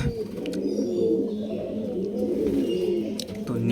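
Fancy pigeons, including Lakka and Siraj breeds, coo in a home loft, overlapping soft throaty calls that are close and continuous, with faint chirps above.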